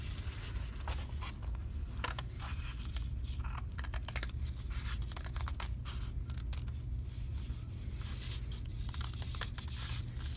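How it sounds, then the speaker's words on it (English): Scissors cut through two stacked sheets of paper, a close run of crisp, irregular snips and rustles over a steady low background hum. "I'm cutting through both pieces of paper."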